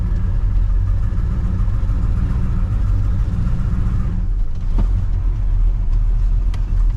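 A 1970 Oldsmobile Cutlass W-31 with manual gearbox rumbles loudly and close while being driven onto a trailer, its engine note dipping briefly midway before settling back to a heavy, steady idle-like growl.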